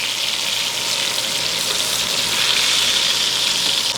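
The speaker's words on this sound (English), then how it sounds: "I'm gonna throw on our last steak, give that a good sear." A steak sears in butter on a hot grill, giving a loud, continuous, even sizzle that crackles and hisses throughout without any talk.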